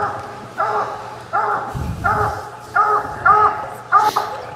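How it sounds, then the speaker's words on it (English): A treed coonhound on a competition hunt gives a regular series of about seven ringing barks, moderately distant, with a brief rustling thump partway through. "So that's the dog you're hearing right there."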